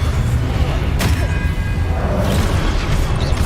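A Descendo spell is cast in a Harry Potter video game with a loud, dense booming thud and a sharp impact crack, set against steady rumbling game noise.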